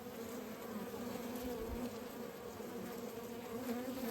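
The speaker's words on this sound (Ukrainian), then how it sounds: "навіть наскільки якісь бджоли неадекватні, навіть не заходять до неї в клеточку" Dense, steady buzzing of many honey bees close by, a continuous droning hum with no voices.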